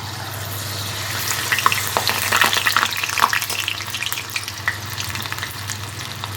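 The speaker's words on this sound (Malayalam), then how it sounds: "ചൂടായ എണ്ണയിലേക്ക് ഇട്ട് നമുക്ക് പൊരിച്ചെടുക്കാം" Spoonfuls of snack batter with onion, ginger and green chilli deep-fry in hot oil, giving a steady close sizzle with bursts of bubbling crackle that swell midway and then settle, with no talking.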